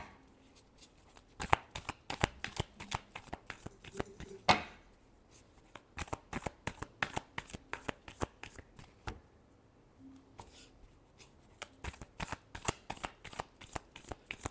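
Tarot cards being shuffled in rapid, crisp riffling bursts with brief pauses between rounds, close and clear, with no talking.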